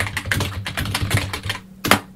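Rapid clicking of keys on a computer keyboard, a quick, uneven run of close taps that ends in one final sharp press.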